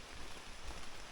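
Steady rain falls on the Appalachian Trail on a rugged mountain stretch, a close, even hiss of drops spread across the whole short stretch with no voices.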